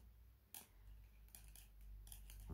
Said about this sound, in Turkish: Hemen buradaki sarı ipimi de artık keseceğim.